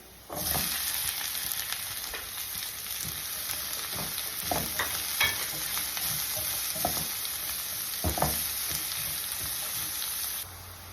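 Chopped onion sizzles steadily in hot oil in a pan while tilapia fillet sarsiado is cooked, with a constant frying hiss and occasional stirring scrapes, close and fairly loud.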